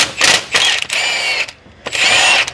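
Impact wrench pulling head bolts from an engine on a 1968 Oldsmobile Toronado, with loud, close bursts of rattling hammering in several short runs separated by brief pauses.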